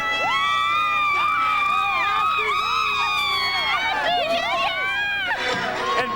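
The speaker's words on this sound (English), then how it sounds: "people see a microphone and they just want to scream" A New Year's Eve crowd on Fremont Street in Las Vegas screams and cheers loudly and continuously, with many high shrieking voices overlapping close by.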